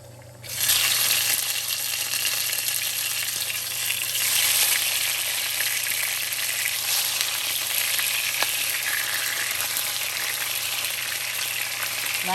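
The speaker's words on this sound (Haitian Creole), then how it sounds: "Donc là, on commence à frire." Tomatoes frying in hot oil in a pan while cooking a Haitian breakfast, a loud, steady sizzle that starts abruptly and holds evenly throughout, with no talking.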